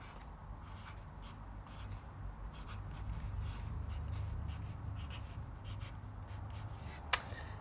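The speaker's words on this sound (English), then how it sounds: "I'm going to blend this with my finger a little bit." A fingertip rubs and blends a pencil drawing on paper, giving a soft, continuous close-up scuffing, with one brief sharp tick near the end and no speech.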